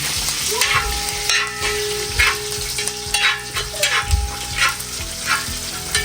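Curry leaves crackle and sizzle in hot oil in a pan, a steady frying hiss with repeated sharp spattering bursts and light stirring, close and fairly loud, with no talking.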